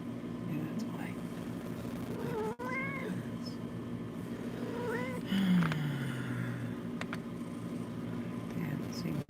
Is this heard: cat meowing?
yes